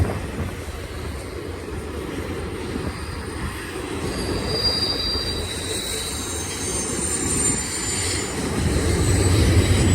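BNSF freight train at Cajon Summit rolling past steadily, with rumbling wheels and a thin high wheel squeal drifting over the noise, growing louder toward the end with no talking.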